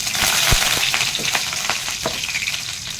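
Curry leaves crackle and sizzle in hot oil in a home kitchen pan, a steady bright frying hiss punctuated by sharp pops and spatters close to the listener.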